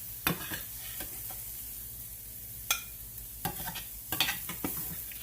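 Onions frying in oil in a pan, a soft steady sizzle with a few sharp scrapes and clinks of a utensil at intervals, alone without talk.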